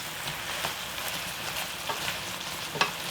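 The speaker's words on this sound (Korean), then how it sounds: "처음부터 센 불로 계속 졸이네요" Chicken feet in a spicy sauce reducing over high heat give off a steady, dense sizzle and bubbling, with a few small pops and stirring clicks, close and even throughout.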